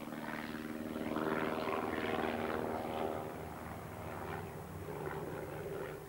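A propeller aircraft engine drones steadily through a test flight in marginal weather, a continuous hum that swells slightly and then holds at a moderate, even level, with no voices.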